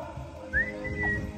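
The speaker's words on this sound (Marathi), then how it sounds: "शिट्टी मारू नको" A single sharp whistle from the audience at a village folk play during a temple festival in Chiplun, a rising then level tone lasting under a second over low background murmur.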